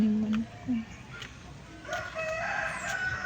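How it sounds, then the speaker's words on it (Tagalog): A rooster on a family property, crowing faintly a short way off, with other faint bird and fowl sounds scattered over a quiet outdoor background. "Ang mami manok."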